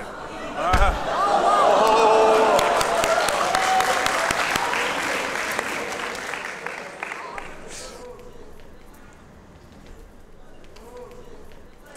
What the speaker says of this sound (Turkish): Alkışlarla yerini alıyoruz.